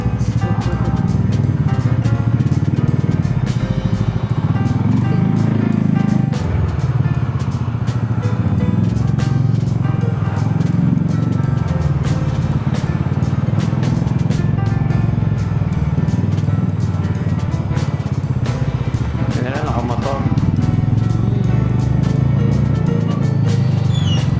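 Congested street traffic in Obando, cars and motorcycles idling and creeping past at close range, a steady loud engine hum with occasional revs and distant background voices.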